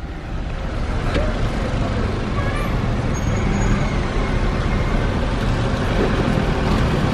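Dense, constant roar of heavy street traffic in Kathmandu, with engines and road noise blending into a steady wall of sound, faint horn-like tones floating above.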